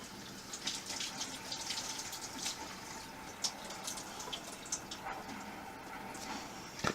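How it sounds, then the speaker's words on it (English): Hands are washed under a running kitchen tap, a steady faint splash of water with scattered small clicks and splatters while cookies are being made. "Hand wash break."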